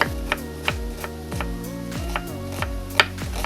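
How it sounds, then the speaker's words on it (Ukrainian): An onion diced into small cubes with a knife on a cutting board, heard as steady, evenly spaced sharp chops close by, about three per second, over a faint background hum. "цибулини нарізаю мілким кубиком"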